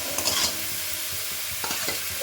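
Momo filling sizzles and fries in a pan while being stirred to cook off the water. A few scraping stirs come close and clear over a steady sizzle.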